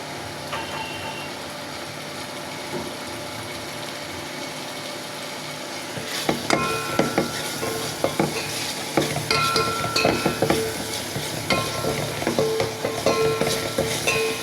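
Spice paste with turmeric sautéing in a pan for a pangas fish curry, quiet at first, then busy clattering stirring and scraping over a steady sizzle, close and fairly loud, no talk.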